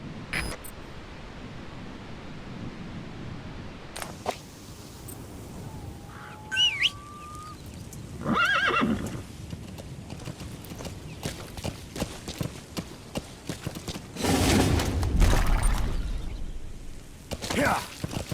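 A horse in the video game Metal Gear Solid V, with steady clip-clop hoofbeats under wind, occasional bird chirps and bursts of louder movement, while a voice speaks briefly.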